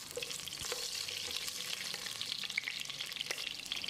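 Whole spices for mutton biryani sizzle and crackle in hot oil as they are stirred in a pan, a continuous bright frying hiss with occasional soft scrapes.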